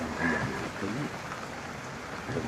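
Rain falls steadily in a dense, even hiss, with people talking quietly underneath throughout.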